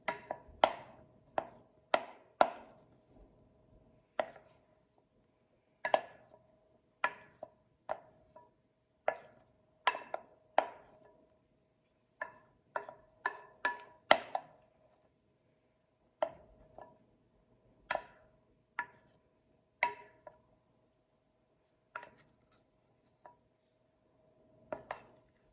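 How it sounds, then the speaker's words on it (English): A spatula scrapes and taps against a bowl of banana pudding, a series of sharp, separate clicks and scrapes spaced irregularly over a quiet kitchen, close and clear with no talking. "just scraping off all the excess, and then we're pretty much done with this"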